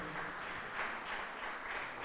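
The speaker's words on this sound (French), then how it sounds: "Mais je crois qu'on peut applaudir chaleureusement Olivier" Audience applause at a French conference and debate on financial intermediation, a steady dense patter of many hands clapping that sounds fairly distant and soft, with no clear voices over it.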